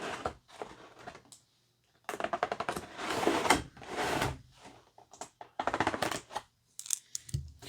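A plastic clamshell package holding a GoodSmile Pop Up Parade Crow figure is cut open up close. Sharp clicking and crackling bursts come in clusters, broken by short silent pauses.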